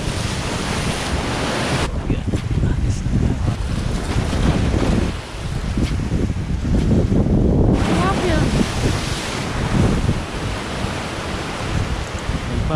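Large ocean waves break near rocks on the Palawan coast, a loud, continuous roar of surf with rising and falling surges.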